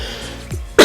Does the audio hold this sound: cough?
yes